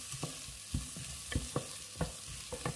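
Leek frying in a pan, with a soft steady sizzle punctuated by repeated clinks and scrapes of stirring, close and fairly quiet.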